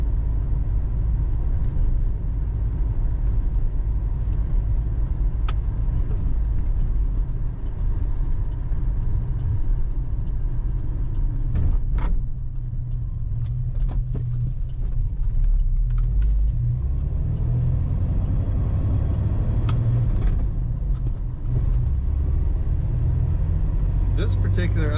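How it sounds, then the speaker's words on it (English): A 1981 Chevrolet El Camino with a three-speed floor shift drives along, giving a continuous low engine rumble and road noise from inside the cab, with light rattles and someone talking over it. "Here we have a 1981 Chevrolet El Camino."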